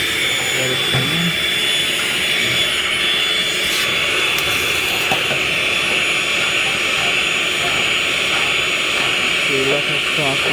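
A vacuum cleaner runs steadily while cleaning a furnace blower motor, giving a loud, constant whine and roar close by through the whole stretch, with brief faint knocks and some background speech underneath.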